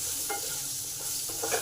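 Potatoes coated with salt and turmeric fry in a pan for a vegetarian potato and papaya curry, with a low sizzle and a few soft stirring scrapes over a short, quiet stretch.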